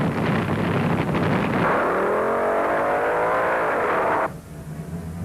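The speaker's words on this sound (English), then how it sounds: "Both cars get off beautifully, but Denny Darrell gets there first" Two drag racers launch hard off the line at the 1972 UDRA Springnationals, a loud roaring engine blast with rising revs that sweeps upward and holds strong before cutting off sharply, with wind rumble throughout.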